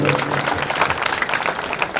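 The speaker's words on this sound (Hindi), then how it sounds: "सब ताली बजा स्वागत करो, अभिनंदन करो" A crowd at a village panchayat building inauguration ceremony claps in a loud, dense burst of applause that lasts about two seconds, with voices mixed in underneath.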